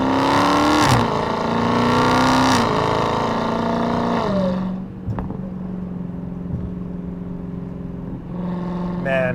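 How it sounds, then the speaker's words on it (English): A 797-horsepower Dodge Hellcat Redeye's engine roars loudly from inside the cabin while driving, revving high and then dropping to a steady lower drone before building again. "I love the way this car sounds."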